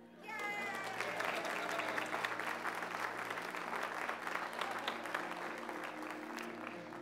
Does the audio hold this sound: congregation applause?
yes